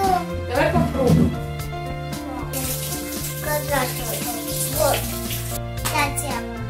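Hot tap water runs over a homemade fruit ice pop mold in a kitchen, a soft continuous hiss sitting under a child and an adult chatting throughout.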